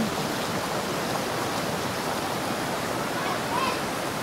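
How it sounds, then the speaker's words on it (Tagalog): A creek rushes steadily outdoors, a continuous broad wash of flowing water with no breaks and no one speaking. "Ito ang sapa guys."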